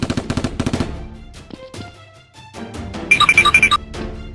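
Nerf gun shots fired in a staged police shootout, several sharp pops in quick rhythmic bursts at the start and again near the end, with clicks and music-like tones between, loud and close.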